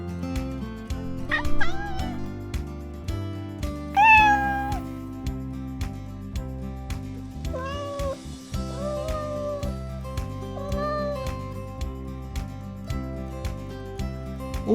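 A cat meows several times, loud and close, with drawn-out rising and falling calls over a repeating musical background.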